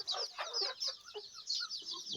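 Chickens and roosters of a crossbred fowl flock cluck in short, busy bursts with high chirping calls, fairly close and continuous, with no talking.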